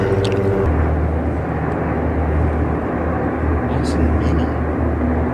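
A constant heavy aircraft drone fills the air, the steady rumble of helicopters flying in a row and hovering over downtown, with faint voices now and then.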